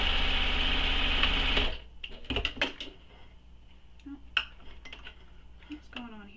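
A sewing machine runs in a steady continuous burst while stitching darts in a bag lining, stopping after nearly two seconds, followed by scattered clicks and small handling knocks.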